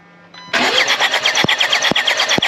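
A Jaguar XE diesel engine cranks on the starter, a loud steady chugging that begins abruptly after a brief quiet hum and repeats rhythmically without catching.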